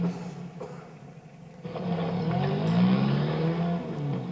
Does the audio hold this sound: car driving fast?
yes